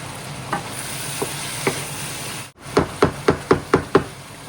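Ingredients sautéing in a pan for arroz caldo, a steady sizzle with a run of sharp spatula scrapes and taps against the pan, sparse at first, then quicker and louder after a brief dropout.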